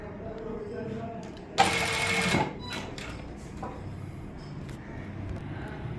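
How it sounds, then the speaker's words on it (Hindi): A sewing machine stitches along fabric under buckram in a short burst of fast, whirring needle clatter, with quiet room sound and faint voice around it. "फिर आपने बुकरम के नीचे नीचे यूं सिलाई लगाते जाना है।"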